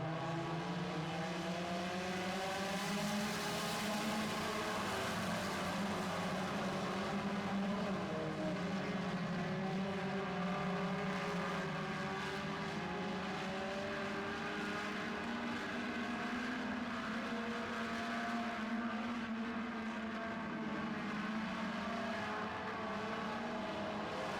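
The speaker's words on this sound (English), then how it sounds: "getting set to go in the 4-cylinder stock division" Several 4-cylinder stock division race cars roar together at the start of a feature race, a dense, continuous engine drone with shifting pitches as the pack accelerates, loud and sustained with no talk.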